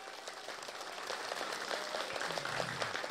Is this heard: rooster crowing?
no